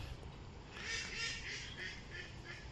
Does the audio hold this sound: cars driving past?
no